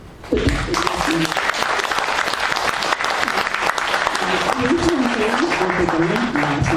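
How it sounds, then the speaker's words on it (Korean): Audience applause at a live poetry recital in Daejeon, a steady, dense clapping from a crowd that fills the room from start to finish, with faint voices mixed in underneath. "꾸준히 연습했던 우리 회원들에게 격려의 박수 부탁드리겠습니다."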